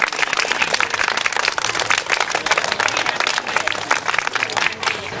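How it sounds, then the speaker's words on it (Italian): Audience applause at a parish oratory gathering, honouring a local family: dense, steady clapping that fills the whole stretch at moderate loudness, with faint crowd murmur mixed in. "un applauso alla famiglia Russo per il carissimo Costi"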